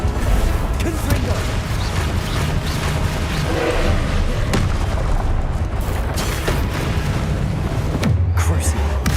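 Blasting spell explosions from Hogwarts Legacy on PS5, a dense run of booming blasts and crashing impacts over a continuous roar of game effects, loud and close throughout.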